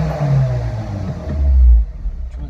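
A 2010 Honda Civic fitted with a Cherry Bomb exhaust rumbles while driving, a steady low drone that swells into a louder, deeper surge before dropping back, heard from inside the car with no talk.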